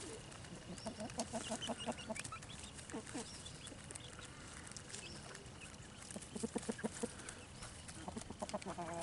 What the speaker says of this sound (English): That's a nice sound. Happy chickens.